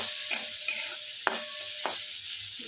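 Diced capsicum frying in hot oil in a pan, a constant bright sizzle with a few scraping stirs of a spatula, close and steady.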